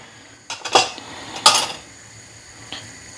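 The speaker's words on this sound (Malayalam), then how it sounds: "ഇത് കടുക് പൊട്ടുന്നുണ്ട്." Mustard seeds crackling in hot coconut oil in a pan while making a tindora and tindora-leaf chutney, heard as a few sharp pops and sizzles in two clusters, then a faint later pop, with no talking.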